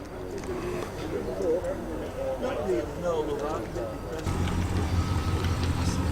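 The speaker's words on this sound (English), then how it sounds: "It's a V8 as well. A woofly burble, I can hear it coming." A Rover P6 with a 3.5-litre V8 and automatic gearbox approaches at a classic-car gathering. A low, woolly burble swells into a steadier rumble in the final seconds over a general background murmur.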